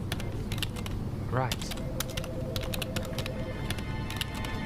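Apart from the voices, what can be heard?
typing on a keyboard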